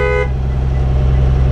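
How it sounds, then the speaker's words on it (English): A brief, loud service horn blast from a 2007 Blue Bird All American school bus over the low idling rumble of its Cat C7 diesel, the tone cutting off quickly while the engine keeps droning. "service horn there."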